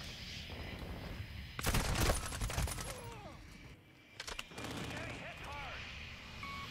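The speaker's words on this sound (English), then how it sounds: "I spawned and the VTOL was shooting at me" A VTOL aircraft fires on a player in a Call of Duty match, loud rattling bursts of rapid shots in two clusters separated by a lull, with other game noise and chirping effects around them.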